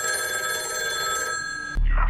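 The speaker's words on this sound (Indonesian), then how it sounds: "Namun tiba-tiba telepon berbunyi." A telephone bell rings with a steady bright trilling tone, loud and close, then cuts off abruptly into a low rumbling background.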